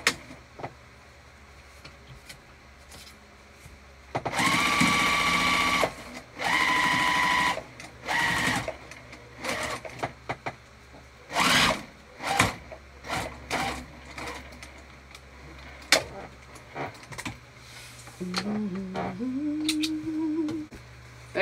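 A sewing machine bastes up the sides of a crossbody bag in short whirring runs of stitching separated by pauses, close and fairly quiet, with small handling clicks between bursts.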